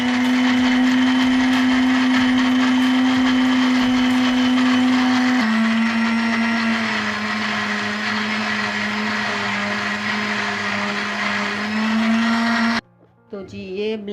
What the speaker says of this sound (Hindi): इन सबको हम करेंगे अब ब्लेंड।